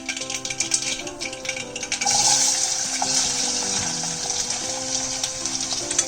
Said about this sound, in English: We'll give it just a few seconds to complete its splutter, and we'll add the onions.